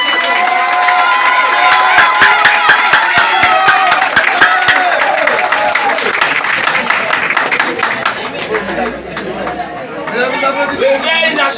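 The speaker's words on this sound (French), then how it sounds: "Un gros applaudissement pour mesdames" A large crowd at a conference in Haiti cheers and shouts with some clapping, a loud, continuous roar of voices and chatter.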